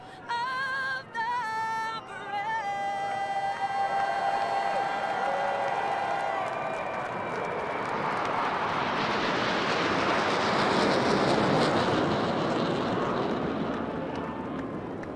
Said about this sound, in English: Look at that crowd cheering, the F-18s flying over.